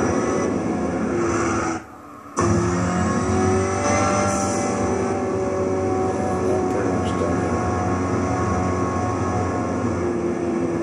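Amuse S2000 GT1 Turbo race car in Gran Turismo 6 at Silverstone, engine roaring loud and steady at full throttle, briefly cutting out for a moment before continuing, with faint talk underneath.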